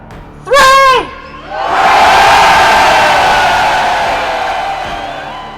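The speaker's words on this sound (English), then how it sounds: "We are going to cheer so loudly." A large outdoor crowd of farmers protesting in London bursts into sustained, loud cheering and roaring after a brief high whoop, the massed voices swelling and holding for several seconds.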